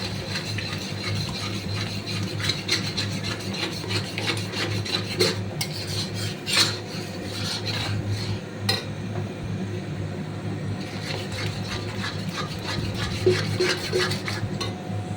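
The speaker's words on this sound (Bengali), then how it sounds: "এবার আস্তে আস্তে আমি এগ ভুজিটা করে নিচ্ছি।" Beaten eggs for egg bhurji, scrambled in hot oil in a pan: a continuous scraping and rasping of a spatula stirring against the pan, with a faint sizzle underneath and no talking.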